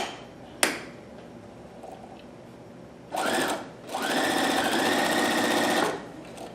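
A Husqvarna Viking Platinum Plus sewing machine with stitch foot B attached runs in two close, loud bursts of rapid stitching, the second longer and steady, after a sharp click.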